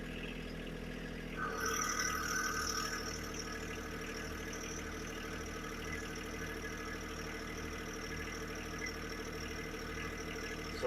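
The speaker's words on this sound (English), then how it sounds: "first we're going to test it at low idle" John Deere 1023E compact tractor engine idling low, a steady close diesel rumble with a faint knocking pulse, alone and unchanging after a slight shift near the start.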